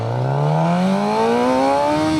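A Suzuki GSX-R600 sport motorcycle engine revs up smoothly, its pitch climbing steadily and loud throughout, with no voices over it.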